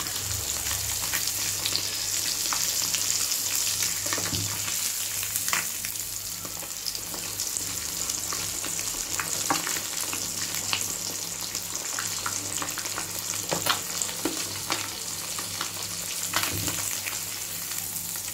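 Rava-coated fish fries in a pan with a steady close sizzle. Scattered pops and crackles run through it, along with occasional scraping or stirring sounds, and no one talks.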